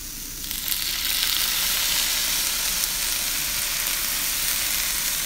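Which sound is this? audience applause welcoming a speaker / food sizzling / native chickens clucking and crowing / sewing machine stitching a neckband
food sizzling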